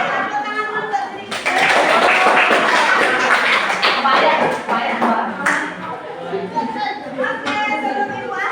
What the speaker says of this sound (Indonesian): Oke, tepuk tangan dulu buat diri